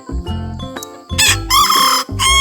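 A bantam rooster on a Thai chicken farm crows loudly and close up in repeated strained bursts, with a few shorter clucking calls between them.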